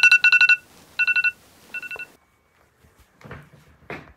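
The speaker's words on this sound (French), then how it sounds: "J'ai mon téléphone qui sonne" A mobile phone rings indoors with three bursts of bright electronic tones, then stops, followed by a few faint handling noises.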